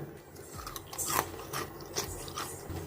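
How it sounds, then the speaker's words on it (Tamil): A fried yellow pumpkin chip crunches under a few close, crisp bites, each a short brittle snap spread over a couple of seconds in a quiet room. "எடுத்து கடிச்சா மொறுன்னு இருக்கும் பாருங்க. நான் கடிச்சு காட்டுறேன்."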